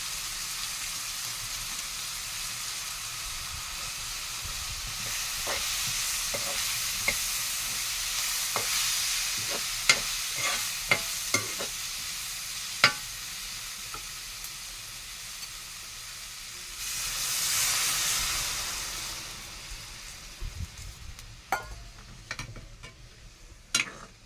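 Curry frying in a pan as chili powder and chicken masala powder go in, a steady close sizzle broken by scattered ticks and clinks of a stirring spoon, with a louder hiss surge near the end.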